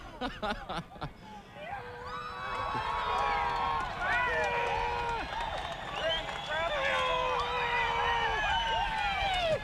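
Crowd at Nashville Speedway cheers after a NASCAR Craftsman Truck race, a broad sustained roar with scattered whistles and shouts, rising after a few sharp claps at the start.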